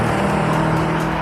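A Chevrolet Camaro SS styled after the 1967 model drives past, its engine giving a loud, steady drone with a low hum throughout.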